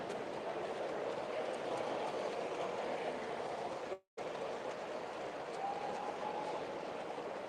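A small model diesel multiple unit train at a model railway show runs continuously with a steady rumbling hum and faint clatter, briefly cutting out for an instant midway.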